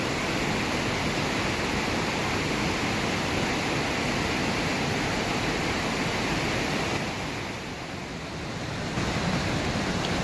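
Linville Falls pouring into the gorge, heard from the closest viewpoint as a loud, steady roar of falling water filling the whole clip, dipping slightly near the end.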